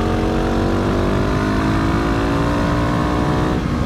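A KTM 690 motorcycle engine revs hard and loud up close, holding a steady high drone that climbs slightly in pitch throughout.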